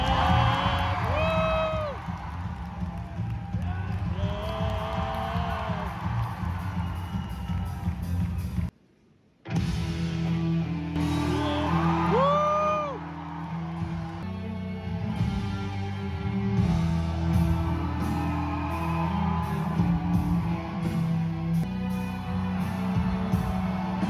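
An audience cheers and whoops for a Jujutsu Kaisen character, with rising shouts over a music-filled backdrop; after a brief silent break, a second somewhat quieter round of cheering follows.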